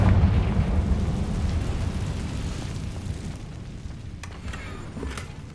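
Confringo explosion spell in Hogwarts Legacy: a deep booming blast at the start that rolls into a long, fading rumble, with faint crackling debris and game ambience trailing off.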